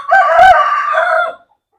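A single loud rooster crow, close by, rising and holding before trailing off into silence.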